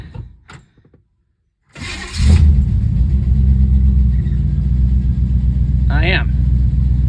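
A 1966 Chevy V8, just fitted with new spark plugs, cranks and fires up, then settles into a steady, loud idle rumble; a few words are spoken briefly before the start.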